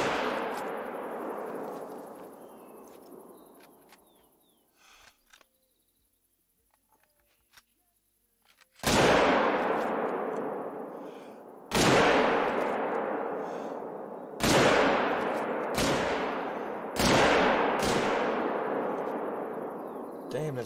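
Hunting rifle shots ring out in theHunter: Call of the Wild on the Vurhonga Savanna, four loud, sharp reports spaced a few seconds apart, each with a long fading echo, following a fading earlier blast and a quiet gap.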